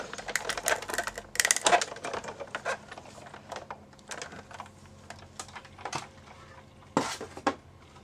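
Die-cutting machine pressing metal dies through card for a winter greeting card, giving a run of clattery, clicking mechanical bursts with short pauses, close and moderately loud, no talking.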